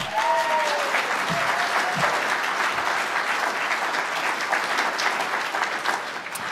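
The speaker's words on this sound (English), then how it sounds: "big round of applause for Strider" A conference audience breaks into a big round of applause, a loud continuous wash of clapping from many hands that holds steady, with a faint tonal whistle or feedback early on.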